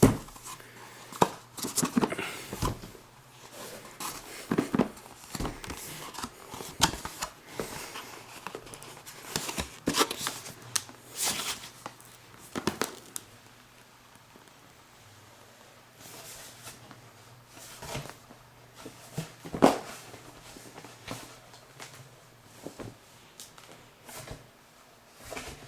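Rustling, scraping and sliding of a cardboard packaging sleeve being worked off a Beatles box set, in irregular close bursts with pauses, no talking.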